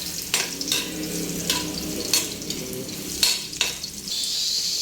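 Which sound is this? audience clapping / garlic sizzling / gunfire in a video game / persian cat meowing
garlic sizzling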